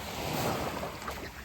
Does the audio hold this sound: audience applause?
no